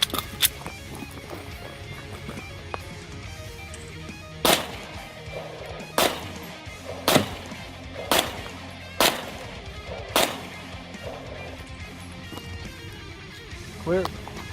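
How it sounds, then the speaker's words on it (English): A DB9 9mm pistol fires 115-grain range ammunition in about six sharp, separate shots at irregular intervals. The shots are moderately loud over a quiet background with faint low murmuring. "On the DB9 got the cellular billet, 9mm. This is 115 grain,"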